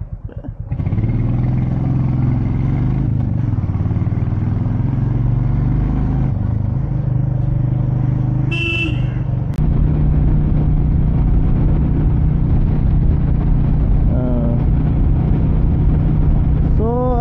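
A Royal Enfield Gorilla 450 motorcycle cruising on a highway, with a continuous loud engine drone and wind rush that hold steady throughout, plus a brief higher whine partway through.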